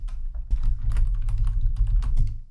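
A computer keyboard clatters steadily with rapid, close keystrokes as HTML code is typed, over a low constant hum.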